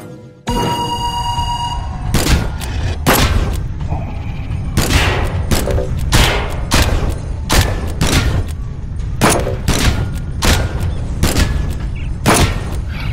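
Loud pistol gunshots fire one after another, about a dozen sharp blasts at uneven intervals, in the T-Rex Kingdom shooter game of Epic Rollercoasters on PSVR2 virtual reality.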